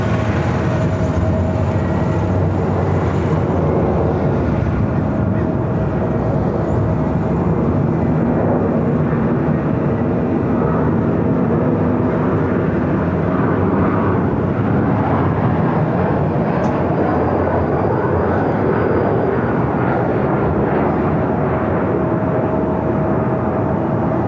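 An Aeromexico Boeing 787-8 Dreamliner at Los Angeles airport, bound for Mexico City, produces a sustained, loud jet engine roar that fills the air steadily for over twenty seconds, without speech.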